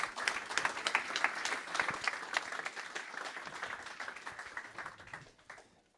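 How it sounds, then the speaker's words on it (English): Conference audience in a packed room applauding speakers at an AI event, dense sustained clapping from many hands that gradually thins and fades out toward the end. "Please give a big round of applause to Jason and Eiso."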